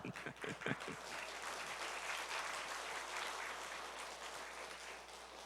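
Church congregation applauding during a revival service, a dense steady clapping that fills the space for several seconds, opening with a few distinct individual claps before the crowd joins in.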